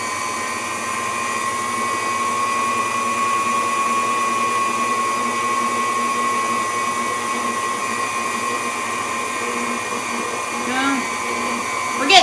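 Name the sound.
electric mixer starting up, mixing flour for dinner rolls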